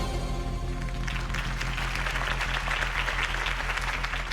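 Crowd applause after a campaign speech in the Batman Telltale video game, a dense sustained clapping swell that rises partway through over a low music bed.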